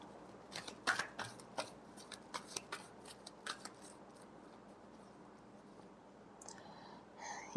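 Tarot cards shuffled by hand in a quiet room: a run of soft, quick riffling snaps and clicks during the first few seconds, tapering off into faint room noise, with one more light rustle at the end.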